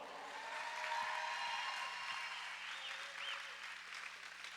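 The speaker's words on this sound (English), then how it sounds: "Now let's give some applause for all of our volunteers who make all this possible." Applause from a crowd at a junior roller derby event, a steady broadband wash of clapping filling the whole stretch at moderate distance, with no talk over it.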